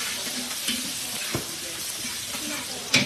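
Shrimp paste (alamang) frying in cooking oil with garlic and onion, a steady low sizzle with a few stirring knocks and one sharper clatter near the end.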